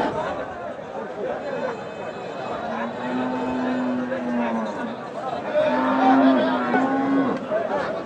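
A pair of sturdy Sahiwal cattle low in long, drawn-out moos at a busy livestock market, heard over a steady background of crowd chatter and nearby voices.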